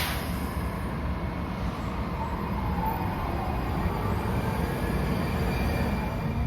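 Ride aboard a Metro Red Line train heading toward Shady Grove, a steady low rumble of wheels and cabin noise with a faint rising whine partway through.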